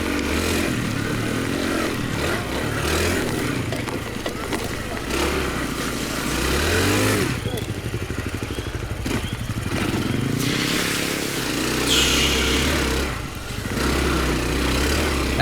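A Honda dirt bike churns through mud on a Michigan trail ride, its engine revving and bogging in uneven bursts with clattering. People talk over the steady, close engine noise.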